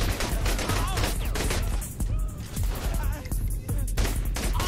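Continuous gunfire and explosive bursts from the Saints Row The Third video game, loud and dense throughout with game dialogue and other sounds layered over it.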